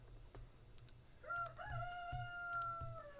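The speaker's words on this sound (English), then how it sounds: "If you hear a rooster in the background, that's my rooster." A rooster crows once in the background outdoors as rain approaches, a rising then long sustained call, moderately loud over low rumbling ambience and scattered faint clicks.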